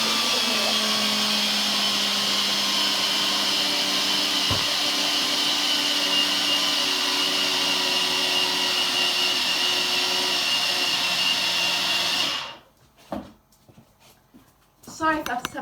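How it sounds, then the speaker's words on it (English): Flax seeds are milled in an electric grinder, a loud, steady high-pitched whir running close up for about twelve seconds before cutting off, followed by light clatter. "You freshly mill up the flax seeds."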